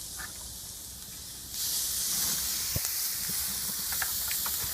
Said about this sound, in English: it's time to put the ribs on the grill. Just going to do a few here. We're just going to put them on and sear.